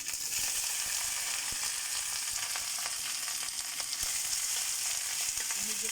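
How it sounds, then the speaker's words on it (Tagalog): Vegetables (trisam) sautéing with ginger in a hot pan give a continuous bright sizzle and crackle at moderate level, with occasional small pops and stirring clicks, and no talking. "Gigisa ko lang sa ginger itong gulay ni Lola na favorite niya"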